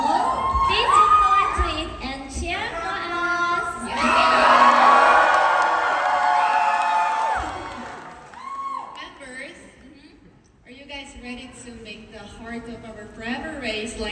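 A concert crowd at a live K-pop show in Chicago cheers, whoops and screams in loud bursts, swelling in the middle and fading, with an amplified voice talking between the shouts.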